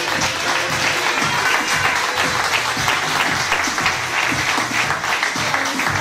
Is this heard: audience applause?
yes